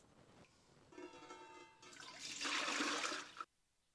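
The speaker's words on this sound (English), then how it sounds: "I'm gonna wash my hands right now" Tap water running while hands are washed, a soft splashing flow that builds and grows louder before stopping abruptly, heard alone.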